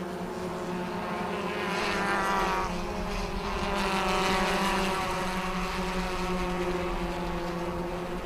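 Steady, continuous engine roar of racing cars at the 2023 Indian National Car Racing Championship, swelling slightly mid-way as cars pass, loud and sustained without a break.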